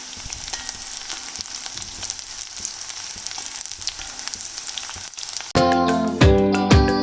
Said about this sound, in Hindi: उसी तरह यहाँ पे आलू फ्राई हो रहे हैं